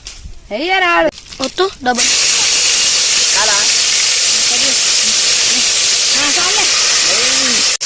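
Cooking oil hisses and sizzles steadily in a pan at an outdoor village feast, loud and close, after a few brief spoken words at the start, with occasional faint voices over the constant sizzle.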